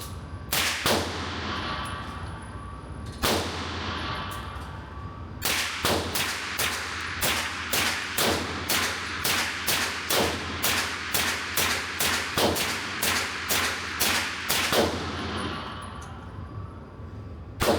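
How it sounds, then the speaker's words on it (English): Suppressed Springfield Armory KUNA 9mm carbine fitted with a CMMG suppressor, firing a long string of sharp cracks at the range, a few spaced shots and then rapid steady fire, close and loud. "I'm so excited to take this to the range and shoot it suppressed"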